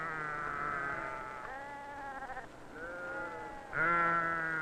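A northern sheep bleats loudly and repeatedly during shearing, long wavering calls running almost back to back, the last one louder and closer.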